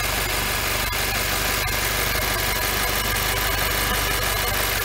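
A silver FJCW coupe idles just after start-up, its engine running in a steady, close, even drone with a slight vibrating rumble throughout and no voices.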